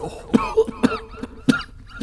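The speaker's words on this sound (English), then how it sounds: "And he has a coughing fit." A man coughs repeatedly in a rough, hacking fit, with about five sharp bursts spaced unevenly and a brief throat-clearing sound between them, close by.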